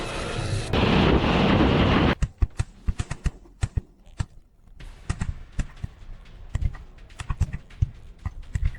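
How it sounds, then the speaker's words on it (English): Jets attacking Russian defensive positions with missiles: a sustained roaring rush gives way to a string of sharp, heavy blasts and thuds at irregular intervals, loud and close, with no talk. "The jets begin the attack with missiles."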